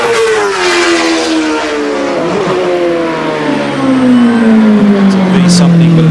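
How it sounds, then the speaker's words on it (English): CART race car from the 2002 Surfers Paradise round, running rough with an electrical fault, its engine note sliding steadily lower as it pulls away. Loud and near, with a commentator talking over it. "The Dixon car sounded dreadful when it left the pit lane"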